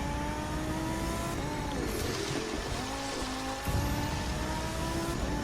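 A Lamborghini Huracan drifts on an icy road in The Crew 2, its engine holding a steady drone with shifting pitch as it slides, loud and continuous with no talking.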